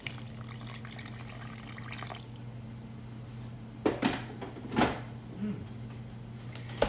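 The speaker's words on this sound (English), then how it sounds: "Add some more water." Water runs steadily from a tap into a raw cat food mix, soft and close, with a few brief splashes and sloshes partway through.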